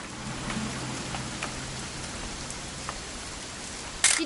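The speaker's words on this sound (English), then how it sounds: "It's gonna rain the whole weekend, isn't it?" Steady rain falls in the video game What Remains of Edith Finch, a continuous close patter of drops on surfaces with a few sharper splashes. A brighter burst comes near the end.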